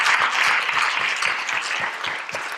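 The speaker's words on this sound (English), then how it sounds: "Can we give them a hand? Round of applause." Audience applause at a sustainable business showcase forum, a dense, steady wash of clapping from a room full of people that holds strong, then eases slightly toward the end.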